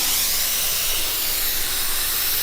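Activator sprays in a continuous, close, loud hiss across a hydro-dipped Toyota Tacoma part, steady from start to finish.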